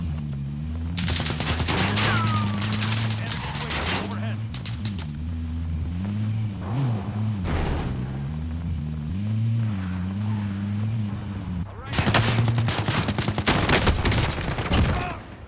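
AN94 rifle gunfire in Call of Duty Warzone, rapid bursts of shots with a steady engine drone underneath, fairly loud and close, pausing briefly before a final heavy flurry.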